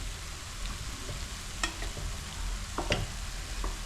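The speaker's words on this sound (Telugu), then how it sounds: "మీకు టమాటా ముక్కలు కూడా వేగుతున్నాయి" Tomato pieces frying in oil for chutney, a low steady sizzle with occasional faint spoon clinks and crackles, close and quiet with no voices.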